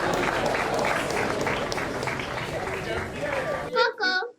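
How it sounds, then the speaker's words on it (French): A crowd at a thanksgiving Mass for a school applauds loudly and continuously for about four seconds, then the clapping stops abruptly and a voice begins speaking. "Acclamons la parole de Dieu."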